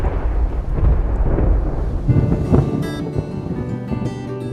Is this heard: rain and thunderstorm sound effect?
yes